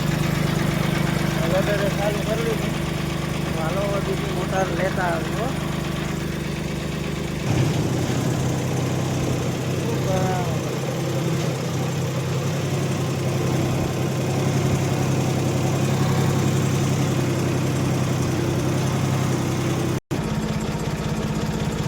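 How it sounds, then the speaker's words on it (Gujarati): A loader's engine runs steadily throughout, a low droning idle with a rougher, louder tone after the first few seconds, while someone speaks briefly over it. "લોડરે ચાલુ કરી લીધી"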